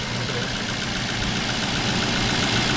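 A Range Rover Vogue engine idles at close range with a slightly rough, shaky note from a vacuum leak, a steady low rumble with broadband hiss that holds level throughout.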